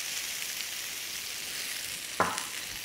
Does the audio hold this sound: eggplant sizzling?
yes